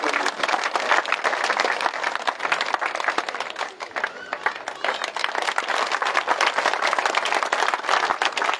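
An audience in Rajasthan claps loudly to welcome the district collector to his seat at a public gathering, a dense, steady wash of applause that carries on without a break.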